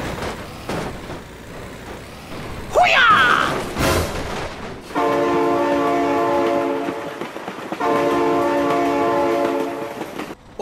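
In BeamNG Drive, a passing train blasts two long, loud chord-like horn blasts amid rumbling and clatter, following a brief burst of excited shouting and crashing noise earlier.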